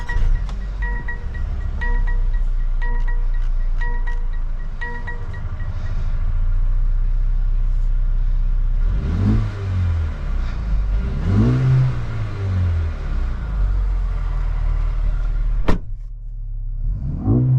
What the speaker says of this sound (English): take this GLA 35 AMG on a POV test drive and see how it does